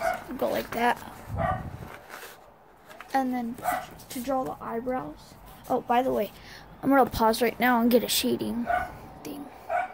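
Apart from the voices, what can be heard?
dog barking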